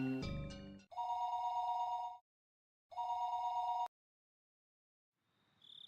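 A telephone rings in the Higurashi video game, an electronic ring tone heard in two long bursts separated by a short gap, loud and close, followed by a brief faint tone at the end.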